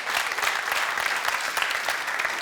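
A comedy club audience breaks into steady, dense applause, a continuous wash of clapping hands filling the room at close range with no voices over it.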